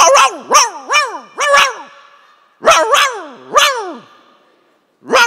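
A person imitates a dog, giving several loud, close barks in quick bursts with short pauses between them, voiced during a sermon in a church setting.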